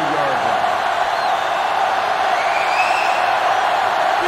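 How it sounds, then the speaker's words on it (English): Steady stadium crowd roar from a sellout Sugar Bowl game between LSU and Notre Dame in NCAA Football 06 on Xbox, a loud continuous wash of noise with faint whoops, no talk over it. "The sellout crowd is really making a difference now as these guys can't even call the play."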